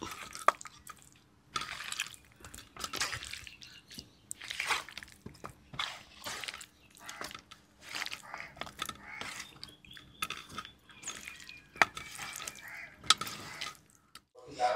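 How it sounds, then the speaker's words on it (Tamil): Anchovies mixed with masala by hand in a bowl, making intermittent wet squishing and squelching with small clicks and drips, close up, with a faint voice now and then. "பாருங்கள் மசாலாலாம் போட்டு நல்லா கிளறியாச்சு."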